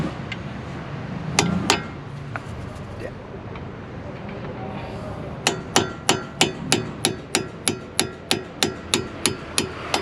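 Metal hammer strikes knocking out brake pad pins on an Alfa Romeo Mito with Brembo brakes, a few scattered blows early, then a steady run of about a dozen sharp, evenly spaced ringing hits, with quiet background noise.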